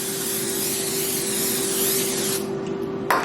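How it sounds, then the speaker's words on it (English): A steady, continuous hiss of cooking spray from an aerosol can runs for about three seconds, close and loud, then cuts off abruptly. "I am going to spray."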